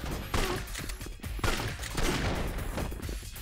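Shotgun blasts and gunfire burst in a Yakuza 4 action fight, loud, dense and chaotic, crowded with crashing impacts and game effects across the whole span, with no voices.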